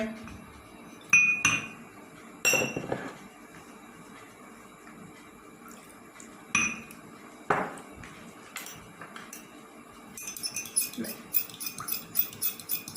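Glass clinks against glass as two coloured liquids are stirred and mixed together, a few sharp isolated taps spaced seconds apart, then a quick run of lighter clinks near the end, fairly faint with no voices.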